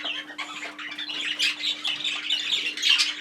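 Young chicks squawk and chirp continuously inside a shed, with a dense overlapping chorus of shrill calls close by and a steady low electrical hum underneath.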